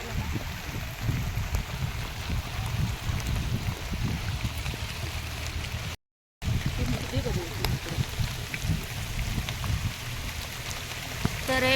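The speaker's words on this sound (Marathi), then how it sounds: "तर एवढा पाऊस आलेला आहे" Steady rain pouring over rice paddy fields during Indrayani rice planting, a dense continuous hiss with patter, heard close throughout with a brief dropout midway.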